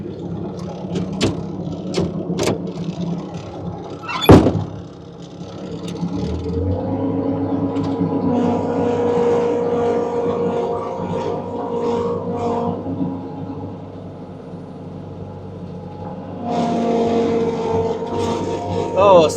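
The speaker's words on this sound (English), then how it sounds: "a set of forks on a skid steer just almost makes chores too easy" A skid steer fitted with forks runs on a homestead, its engine a steady low rumble that swells and eases as it works, with a few knocks and clatters near the start.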